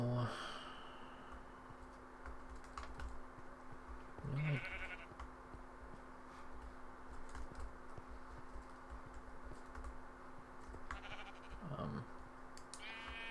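Sheep in the Minecraft map Diversity 2 bleat twice, a few seconds apart, each short and close, over a quiet background with faint keyboard clicking.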